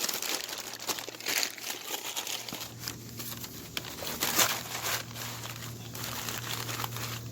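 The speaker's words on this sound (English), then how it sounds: "I'm just going to crumple this up." Sheets of newspaper are crumpled by hand to start a charcoal fire for a Weber Smokey Mountain smoker, a close, continuous crinkling and rustling with sharper crackles over a low steady hum.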